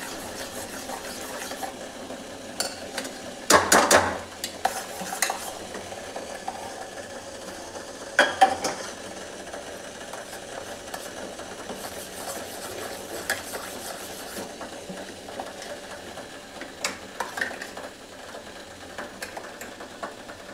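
Multani mitti soap mixture being cooked and stirred in a pan on a gas stove, giving a steady low bubbling hiss with a few louder scraping bursts of the spoon against the pan, no voices.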